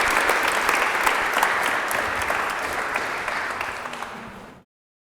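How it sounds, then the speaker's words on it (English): Conference audience applauding after a panel debate at a data-industry event, dense sustained clapping from a sizeable crowd that gradually thins and cuts off abruptly near the end. "So please help me all in applauding."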